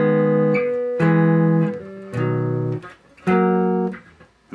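Strummed electric or acoustic guitar chords from a song, first pass: four sustained chord changes played alone at close range, each ringing then cut before the next.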